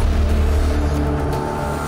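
An auto rickshaw engine rumbles close by, a steady loud motor drone with no talking over it.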